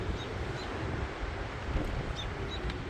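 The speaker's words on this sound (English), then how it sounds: "everything's shaking in here because the wind is so strong." Steady roaring wind buffeting the microphone, a constant low rumble with no other clear sounds.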